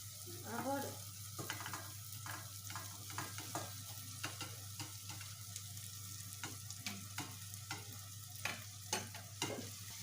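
Tomatoes and other ingredients frying in a pan while being stirred, a faint steady sizzle with soft scraping and clinking strokes at an irregular rhythm, close by and quiet.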